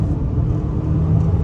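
A 2024 Ford Bronco Sport Badlands thrown hard through twisting corners, giving a steady, loud low cabin rumble of engine and road with no talking over it.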